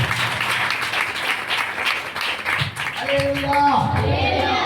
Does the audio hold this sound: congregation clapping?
yes